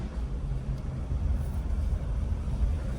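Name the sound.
Mitsuoka Yuga car driving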